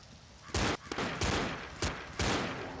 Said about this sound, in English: You gonna get in my way? while I'm shooting bullets?